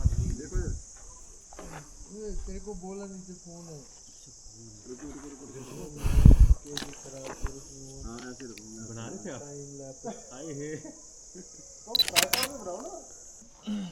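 A camera shutter clicks a few times during a photo shoot of a Royal Enfield motorcycle, sharp brief snaps heard among people talking, with a steady insect-like high whine throughout.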